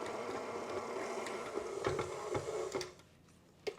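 An electric stand mixer with a dough hook works flatbread pizza dough in a steady mechanical whirr with rhythmic knocks, then cuts off near the end, followed by a short clack.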